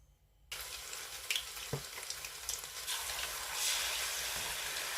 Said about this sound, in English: next I'm going to fry my burger, and I have a little bit of oil in here